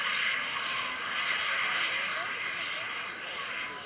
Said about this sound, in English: He makes the turn off with that microjet for us this afternoon.